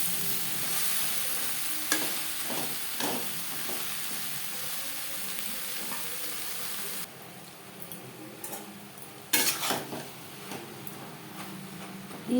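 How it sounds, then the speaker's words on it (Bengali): Ridge gourd pieces are stirred with onions in a frying pan with little oil, making a steady sizzle broken by repeated spatula scrapes and taps, which quiets midway and then returns with louder clatters. "পেঁয়াজের সাথে ধুনুল বেশ ভালো করে মিক্স করে দেবো।"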